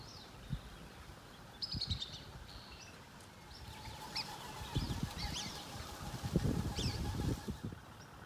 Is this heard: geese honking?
yes